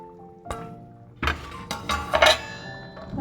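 The lid comes off a cooking pot of crab masala with a few near metallic clinks and clatters, then a brief scrape, over a quiet kitchen background.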